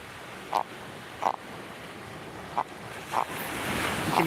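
A puffer fish just caught while surf fishing on the Outer Banks gives four short, faint croaking grunts spaced a second or so apart over steady surf and wind noise.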